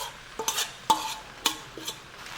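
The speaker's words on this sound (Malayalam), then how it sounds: "നന്നായി മിക്സ് ചെയ്യാം." A spoon stirs a grated coconut mixture into a Kerala-style jackfruit stir-fry in a pan, making four or five soft scraping, clinking strokes at an uneven rhythm, close and fairly quiet.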